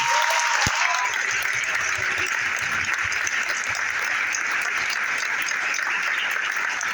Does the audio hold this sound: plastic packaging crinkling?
no